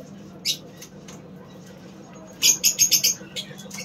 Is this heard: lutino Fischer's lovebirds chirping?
yes